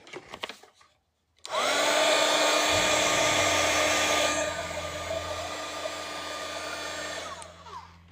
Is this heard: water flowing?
no